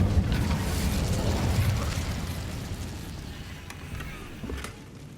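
An Incendio fire spell in Hogwarts Legacy is cast at a damaged bridge, giving a loud roaring whoosh of flame that burns steadily, then slowly fades with a few faint crackles.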